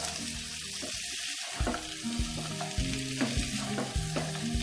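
Potatoes and green peas are sautéed in a pan for potato dum: a sizzling fry with repeated scraping and stirring strokes of a spoon against the pan, close and steady.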